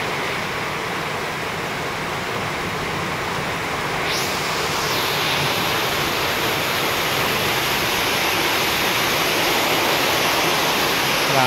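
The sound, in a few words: strong water flowing past a hollow block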